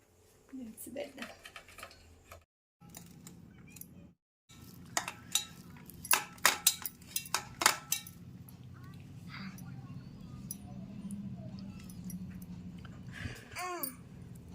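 An egg omelette is chopped into pieces in a pan, giving light metallic taps and scrapes in a quiet kitchen, clustered in the middle, while people talk softly throughout.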